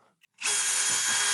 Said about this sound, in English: we're going to drill 2 little pilot holes.